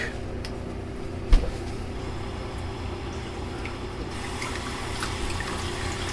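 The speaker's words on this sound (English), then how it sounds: "I'm running my cold water, and it feels like bath water" Cold water running from a household tap in a mobile home, a steady, soft wash of flowing water with a faint splash near the start, held at a low, even level throughout with no talking.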